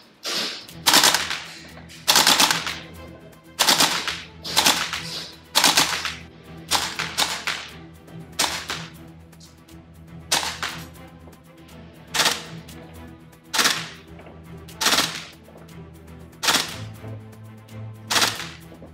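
An airsoft AKM fires bio BBs in a string of sharp, separate cracks, about a dozen shots spaced irregularly a second or so apart, crisp and close with quiet gaps between.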